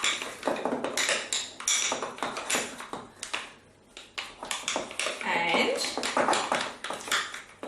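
Halloween cupcake mixture being stirred in a bowl, repeated clinks and scrapes of a utensil against the bowl in an uneven rhythm, with people talking over it.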